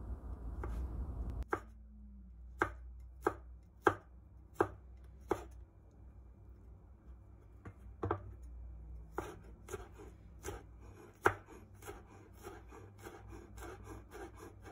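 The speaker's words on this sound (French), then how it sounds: "on coupe l'ail en petits morceaux" Knife chopping garlic into small pieces on a board, sharp crisp knocks first in a slow even series, then faster irregular cuts, close and clear over quiet background.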